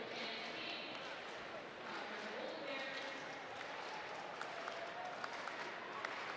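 A stadium crowd at a university track and field national championship claps a steady rhythm for a high jumper, a dense, continuous wash of many hands with crowd noise throughout.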